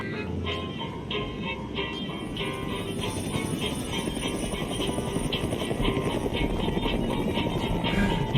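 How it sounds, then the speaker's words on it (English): A helicopter's rotor thrums continuously in a film scene, its steady chopping drone growing slightly louder over several seconds, mixed with faint background voices. "Just jumps into a helicopter."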